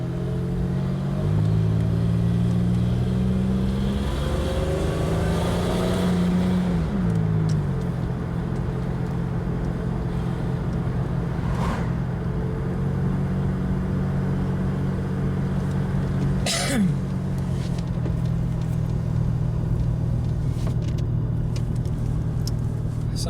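A Pontiac Grand Prix GTP cruises through a small town at steady speed, its engine and road noise droning continuously with a couple of gentle shifts in pitch and no one speaking.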